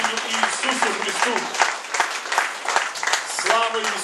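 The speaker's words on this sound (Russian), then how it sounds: "Аплодисменты воскресшему, живому Спасителю Иисусу Христу!" A church congregation at an Easter service applauds, with clapping mixed under loud voices and cheering throughout.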